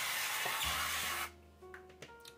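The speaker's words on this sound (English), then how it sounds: "First thing you do is you want to use some type of cooking spray" Cooking spray hisses from a can into an egg bite mold in a test kitchen, one steady spray lasting about a second, close and fairly quiet, followed by a few soft clicks and knocks.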